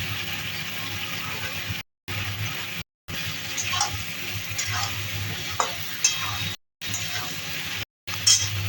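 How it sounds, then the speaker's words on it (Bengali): Pointed gourd and potato pieces fry in a pan, a continuous close sizzle broken by brief pauses, with scraping stirs and occasional light clinks of the utensil against the pan. "পটল আলু হালকা হালকা ভাজা হয়ে গেছে"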